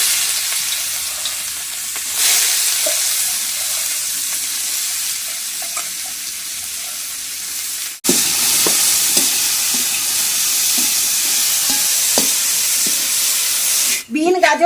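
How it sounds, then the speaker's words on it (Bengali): Beans and carrots fry in hot white oil, giving a steady loud sizzle that surges when the vegetables drop into the pan, with occasional stirring clatter and a brief break near the end. "তেলের মধ্যে বিন আর গাজরটা আস্তে আস্তে করে দিয়ে দিচ্ছি।"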